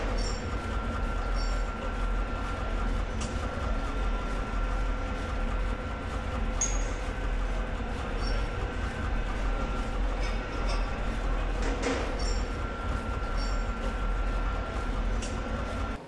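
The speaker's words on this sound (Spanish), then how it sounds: "Los tranvías rodaban por la perspectiva Nevsky" Trams rolling along Nevsky Prospekt give a steady, continuous rail rumble with faint metallic squeals, heard fairly close and alone throughout.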